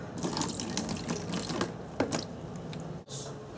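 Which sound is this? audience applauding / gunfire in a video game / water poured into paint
water poured into paint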